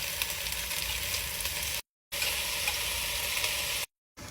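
Cubed ribeye fries in hot oil in a pot, a loud, continuous sizzle with occasional stirring, interrupted by two brief silent gaps.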